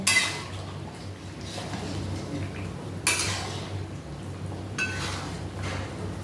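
Pot lid lifted off simmering chicken curry, producing a few sharp metallic clinks and scrapes against a low background hum, close by and without talk.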